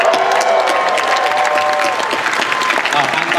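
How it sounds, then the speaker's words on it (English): A Comic Con panel audience for a Breaking Bad reunion claps loudly and continuously in a large hall, a dense close wash of applause with some crowd noise and faint voices mixed in. "And Kubi, let's hear it for Kubi."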